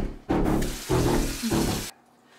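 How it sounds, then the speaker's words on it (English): A kitchen faucet runs in a steady, close stream for about a second and a half, starting abruptly and cutting off sharply, with slight surges in the flow and no talk over it. "I guess I'm just gonna have to drink out of the faucet again."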